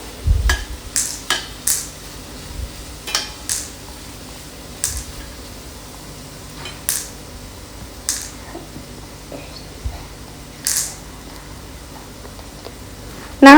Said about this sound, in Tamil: இப்போ இதில் நாங்கள் பொரிச்சு வச்சுக்கிற கனவா, இறால், சிக்கன் 3ஐயும் சேர்த்துக்கொள்ளுவோம். சேர்த்து மிக்ஸ் பண்ணிக்கோங்க.